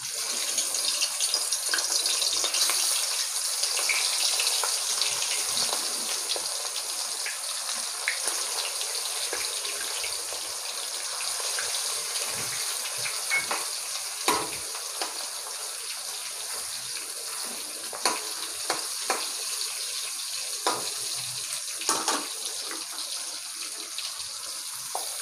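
Rohu fish pieces fry in hot oil in a wok, producing a loud, continuous hissing sizzle that holds steady throughout, with a few faint pops and clicks.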